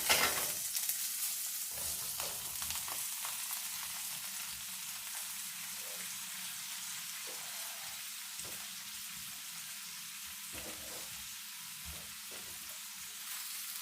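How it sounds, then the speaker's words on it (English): Butter melts and sizzles in a heating pan with a steady, soft hiss that carries on without a break, broken now and then by light clicks and brief stirring sounds. "We're going to let this pan of butter heat up and melt, and then we're going to saute"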